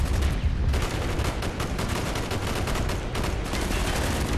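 Gunfire in the Call of Duty Black Ops campaign, a continuous rattle of rapid shots at moderate, somewhat distant loudness.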